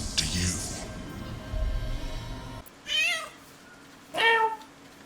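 A cat in Baldur's Gate 3 gives two short, clear meows, close and separated by a brief pause, following a moment of speech and low rumble.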